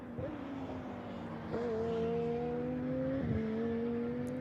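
GT2 race cars, a Mercedes and a KTM, roar past at the Algarve circuit with sustained high engine tones that shift through gear changes, loud and close with no speech.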